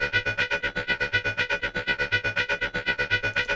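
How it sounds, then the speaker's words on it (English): A looped top percussion sample from a deep progressive house sample pack, with a fast, steady run of bright, evenly pulsing hits and a sustained tonal layer repeating tightly and loudly. "It's actually called a top loop inside of the pack."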